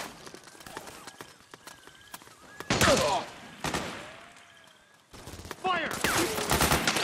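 Video game gunfire in Metal Gear Solid 4 on PlayStation 3: rapid bursts and volleys of shots with loud, dense clusters and quieter gaps between, mixed with battlefield effects and shouted voices.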